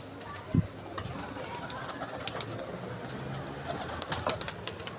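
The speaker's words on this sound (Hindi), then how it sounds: "ये देख ले कबूतर, ये देखो जी।" Pigeons coo softly at a pigeon club, low murmuring calls under nearby chatter and a few sharp background knocks.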